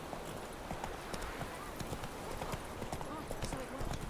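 Horse hooves clip-clop steadily in The Witcher 3 video game, a continuous rhythmic trot of moderate loudness running under a man's speech throughout.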